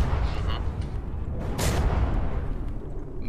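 Missile explosions from a naval combat battle in From the Depths: dense, rumbling blasts overlap in quick succession, with one sharp louder burst midway, all heavily layered.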